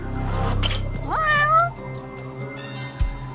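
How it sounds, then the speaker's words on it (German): A stray cat in the Judgment video game meows once, a clear rising and falling cry in the middle, heard against quiet game ambience with low music and background tones. "Oh, schau mal, eine Katze."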